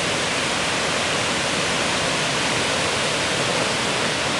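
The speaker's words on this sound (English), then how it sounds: "This is the Canadian Falls." Niagara's Canadian Horseshoe Falls roar in a dense, constant wall of rushing water, loud and unbroken throughout, with no voices.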